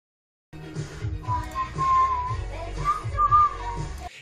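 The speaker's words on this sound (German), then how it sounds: "Dieses Pfeifen im Stream." Whistled melody carries across most of the span, a steady tune with short breaks over a low, busy background hum during a livestream.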